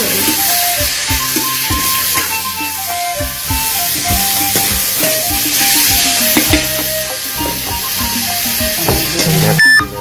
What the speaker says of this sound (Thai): เราก็จะเอาเนื้อหมูลงคั่วให้เนื้อหมูสุกรวมเนื้อหมูหั่นเนาะ